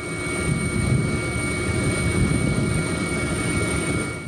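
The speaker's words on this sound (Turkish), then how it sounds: "Sporcular iki helikopterle alınarak dağların zirvesine bırakıldı." Steady, loud aircraft drone, most likely a helicopter ferrying skiers to mountain summits in the Kaçkar Mountains, holding constant and close throughout with no voices.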